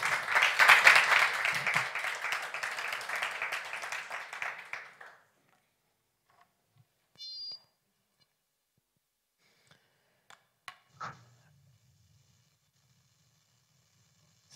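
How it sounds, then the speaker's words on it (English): Audience applause at a livestreamed summit: steady clapping from a crowd for about five seconds, then fading to near silence with a few faint scattered sounds. "An applause."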